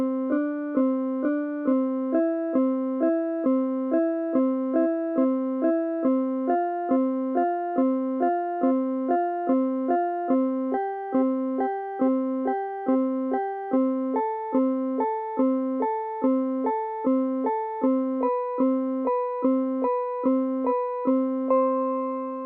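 Piano plays pairs of notes together, major and perfect harmony intervals from a major second upward, each struck and held briefly in a steady sequence that gradually rises in pitch.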